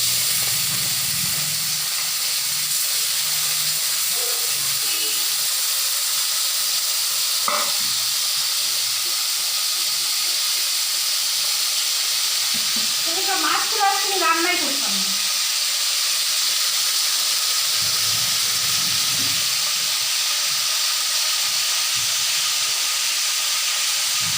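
Large salted prawns hiss steadily in hot oil in a pan, a constant loud sizzle broken by one sharp knock and a brief rising spatter midway.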